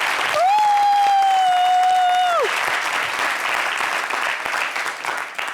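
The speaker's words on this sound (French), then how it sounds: "Applaudissements pour ça." Audience applause on a French talk show, a broad steady wash of many hands clapping throughout, loud and close, with a sustained synthetic tone sounding over the first couple of seconds.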